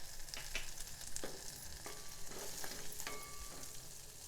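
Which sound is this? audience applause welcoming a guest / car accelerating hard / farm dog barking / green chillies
green chillies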